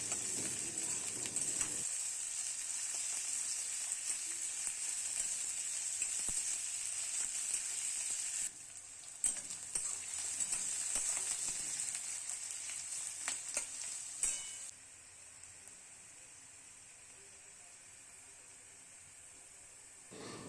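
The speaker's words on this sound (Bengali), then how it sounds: "দিয়ে ভালো করে ভাজা ভাজা করব।" Chopped onions frying in mustard oil with black cumin (kalo jeere), a steady close sizzle with occasional stirring scrapes, easing to a quieter hiss toward the end, no voices.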